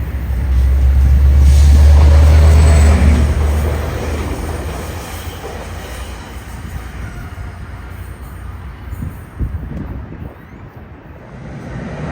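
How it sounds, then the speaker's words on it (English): Trinity Railway Express train 3906 crossing over from Track 2 to Track 1 through a switch crossover, a steady low rumble loudest early and easing off, with wind buffeting the microphone. "3906 to Union Station would then counter just a mere 3 minutes later, crossing over from Track 2 to Track 1"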